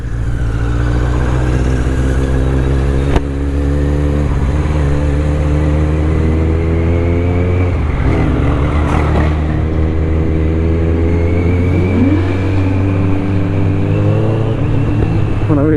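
A Kawasaki Z900 superbike engine runs loud and close with a steady low idle rumble and a few rising revs. Other traffic sounds around it and brief voices come through.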